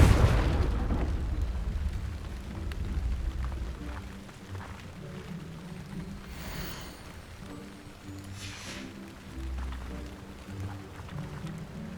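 A Confringo blasting spell explodes in the Hogwarts Legacy video game, opening with a loud, deep boom that rolls into a rumbling decay, followed by softer game ambience and faint tonal music.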